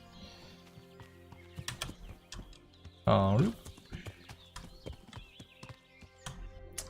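Hooves of a horse clip-clop in a medieval role-playing game, in scattered steps under a voice, with a brief loud whinny-like burst partway through.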